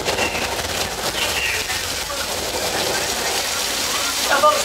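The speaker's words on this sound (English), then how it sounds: "we make it rain by using an overhead sprinkler system, which is kept out of the camera's view" Artificial rainstorm made by an overhead sprinkler system on a studio backlot, falling water hissing steadily and fairly loud throughout, with a brief brighter splash near the end.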